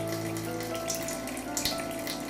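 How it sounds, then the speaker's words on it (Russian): Water running steadily from an open household tap, a continuous hiss and splash filling the clip at close range with no voices. "Всегда закрывать кран с водой."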